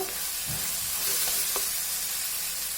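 Tomatoes with salt frying in a pan for chicken masala give a steady, close sizzle throughout, broken by a few soft stirring scrapes.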